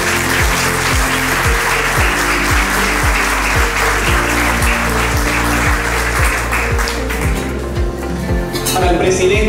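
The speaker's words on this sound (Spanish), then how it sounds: "yo les quisiera pedir por favor un aplauso para la maestra Ana Condado Escamilla" An audience at a book presentation and conference applauds a teacher, loud steady clapping laid over a pulsing, bass-heavy music track with a regular beat.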